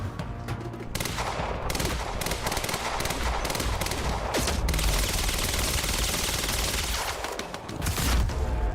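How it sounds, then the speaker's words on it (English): An advanced SMG fires rapid, sustained bursts in the Quantum Break shooter, with loud, close automatic gunfire chattering almost continuously and brief pauses between strings of shots. "I love the advanced SMG."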